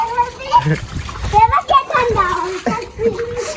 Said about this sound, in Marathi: सिनूवर पाणी उडवू का?